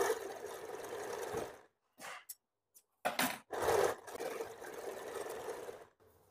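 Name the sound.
sewing machine stitching a blouse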